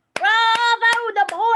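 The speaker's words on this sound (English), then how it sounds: "Mr. Pendanski clapped his hands." Mr. Pendanski claps his hands in an audiobook scene: four sharp, evenly spaced claps ring out over a sustained musical tone.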